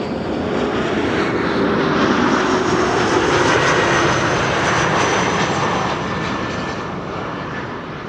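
A CRJ regional jet arriving at Amsterdam Schiphol produces a continuous engine roar, loud and steady and then slowly fading toward the end, with no talking over it.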